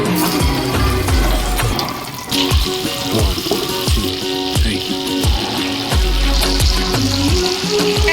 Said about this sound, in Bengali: আমি একটু করে চিংড়ি মাছ ছেড়ে দিচ্ছি